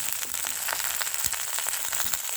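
Onions fry in hot oil in a pan, a close, steady crackling sizzle with small popping bursts.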